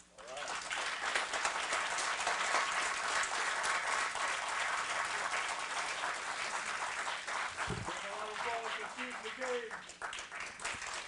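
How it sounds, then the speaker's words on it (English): Applause at a fire department swearing-in ceremony in Aurora for a new chief and deputy chief, a steady crowd of hands clapping throughout, with a voice briefly speaking near the end. "Oh, keep that applause going, Aurora"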